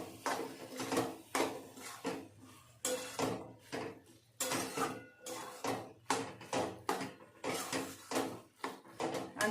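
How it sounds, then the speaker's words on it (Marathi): Mixed vegetables with garam masala being stirred and sautéed in a pan, a steady run of metallic scraping and clinking strokes from a spoon against the pan, close and rhythmic with no talking. "आणि आता परतून घेऊया छान."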